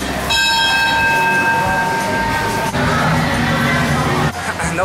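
A train in Thailand, at a Bangkok station, sounds a loud sustained horn close by, with rail rumble and crowd murmur beneath it.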